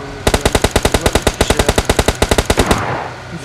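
An automatic rifle fires a rapid burst of about twenty-five loud, evenly spaced shots in the mobile battle royale game PUBG Mobile, then stops abruptly.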